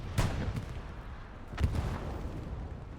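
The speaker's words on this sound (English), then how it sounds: "I did hear the explosion there, though." Two heavy booming blasts roll out in the Hell Let Loose battlefield, a first sharp crack followed over a second later by another, with distant rumbling combat filling the gaps.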